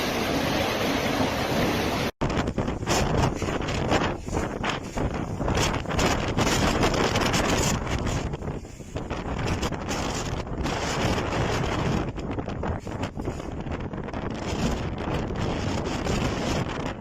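Gusty storm wind in Bermejo, Bolivia, during a squall: a loud, continuous roar buffets the microphone, briefly cutting out near the start, then surges and eases in uneven gusts with no talking.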